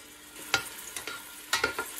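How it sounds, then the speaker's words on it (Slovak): Finely chopped onion sizzles in hot rapeseed oil with a soft, steady frying hiss, broken by a few crisp bursts as it is stirred, close and alone with no talking. "Keď bol olej dostatočne horúci, pridal som doň nadrobno nakrájanú cibuľu."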